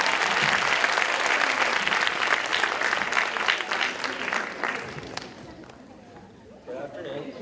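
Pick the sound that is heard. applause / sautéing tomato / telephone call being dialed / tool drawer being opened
applause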